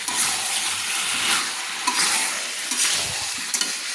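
Fried potatoes stirred into a papaya curry in a pan, a steady close sizzle with scraping stir strokes, a few louder clicks of the spoon against the pan.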